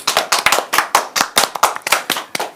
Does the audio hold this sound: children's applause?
yes